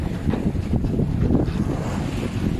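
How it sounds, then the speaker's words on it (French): Strong wind blows head-on across a small sailboat at sea with some swell off Leucate in October, a continuous loud buffeting roar mixed with wave wash. "Le vent pile poil face à nous."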